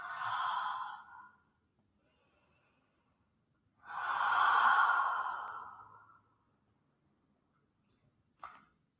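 Two long, audible exhalations during a yoga flow as the body folds forward, each a breathy sigh-like rush lasting a couple of seconds, separated by quiet, followed by a couple of faint clicks; no talking.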